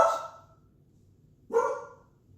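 Two separate dog barks, about a second and a half apart, fairly near and moderately loud, with quiet in between.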